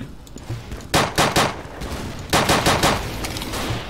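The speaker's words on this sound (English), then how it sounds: "I do quite enjoy the pistol in this game, it's quite effective" Pistol gunfire in the World War II dinosaur shooter Dino D-Day: two quick bursts of three sharp, loud shots each, spaced apart over a steady game background.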